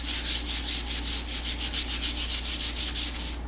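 Steady back-and-forth hand sanding on a subwoofer enclosure surface, smoothing it before filler, with regular rhythmic rubbing strokes about seven per second, close and continuous throughout.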